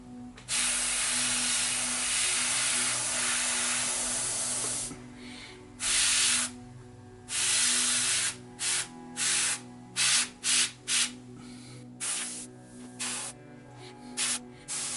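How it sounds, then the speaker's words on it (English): An airbrush spraying paint onto a Cthulhu Death May Die miniature hisses in a long continuous burst, then in a series of short spurts of varying length, close and clear with no talk. "We got nothing coming out of the airbrush again. There we go."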